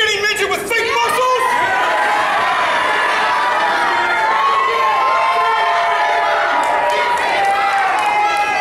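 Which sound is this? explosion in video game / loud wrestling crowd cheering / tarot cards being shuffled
loud wrestling crowd cheering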